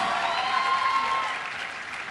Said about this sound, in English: Massive round of applause, ladies and gentlemen.